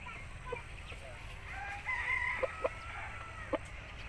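An aseel rooster crows faintly at a distance for about a second, a thin drawn-out call over a low hum of background noise, with a few sharp clucks or clicks afterward.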